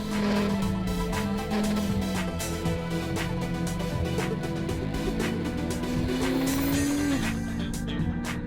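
A Honda CMX500 Rebel motorcycle rides along a road, its engine note droning and shifting in pitch as it accelerates and changes gear, with steady wind and road noise close by.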